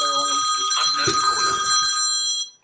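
A phone rings during a grief support café gathering, a bright electronic trill with steady high tones lasting a couple of seconds before cutting off abruptly, fairly loud and close, with faint murmuring beneath.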